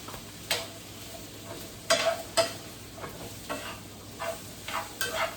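Vegetables and franks stir-frying in a pan, a soft background sizzle broken by a few sharp scraping strokes of the spatula, fairly quiet and close.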